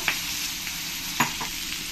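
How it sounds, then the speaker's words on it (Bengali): Chopped onion fries in butter with cardamom, cloves and cinnamon, a close, continuous sizzle broken by two brief clattering stirs, no voices. "এবার পেঁয়াজ কুচি দিয়ে দেবো।"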